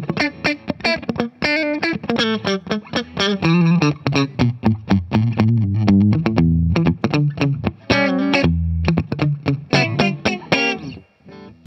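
Electric guitar through a boost and compressor pedal plays a lively riff of quick plucked notes and short chords, upfront and alone.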